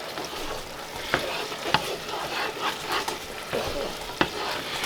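Pork pie filling is stirred in a frying pan, with scraping spoon strokes and sharp clacks against the pan over a steady close sizzle and no talk.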